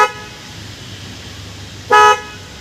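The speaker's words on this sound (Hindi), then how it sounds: "तो ये थे कुछ हमारे बॉश के हॉर्न के सैम्पल्स।" A Bosch symphony horn on a Wagon R, recorded from outside through the open driver's window, gives a short honk at the start and another firm, loud honk a couple of seconds later over steady outdoor background noise.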